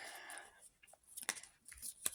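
A paper surprise packet is cut and torn open, with faint crisp snips and rustling tears, a few sharp isolated clicks, and quiet pauses between the sounds.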